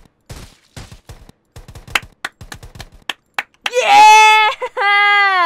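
Rapid gunfire in the mobile shooter Rules of Survival, a quick series of sharp close shots with irregular spacing, followed by a loud, sustained wailing tone.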